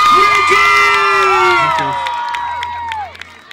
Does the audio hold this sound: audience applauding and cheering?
yes